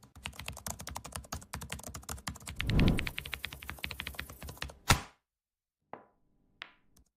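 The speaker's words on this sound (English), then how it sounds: "The sound of the keyboard drifted through the crack in the door, clicking and clacking" Rapid clicking and clacking of a computer keyboard, keys struck in quick uneven bursts close by, then a pause with a couple of isolated taps afterwards.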